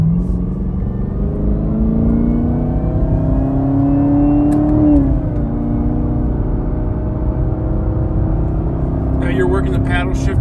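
A Chevrolet ZL1 Camaro on a drive, heard from inside: a steady, loud engine rumble and drone holds throughout. Its pitch climbs and then drops briefly around a gear change, with people talking over it.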